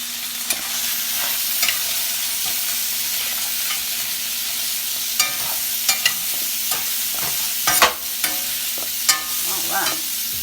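Grits being stirred in a pot with the back of a spoon or spatula over a steady hiss of heat, scattered scraping strokes and a few sharper knocks, close and unaccompanied by talk.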